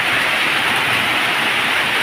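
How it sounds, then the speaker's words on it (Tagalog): Heavy rain pours down in a dense, unbroken roar of broadband hiss, loud and steady throughout with no voices. "Umulan. Ang lakas."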